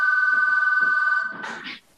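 A telephone rings with a steady electronic tone during an incoming robocall, loud and close, then cuts off as a voice begins speaking.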